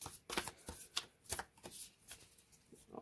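Way of the Panda tarot cards with a silky, matte, smooth stock being shuffled by hand, giving a quiet run of soft riffling flicks and slides in uneven bursts, close and alone.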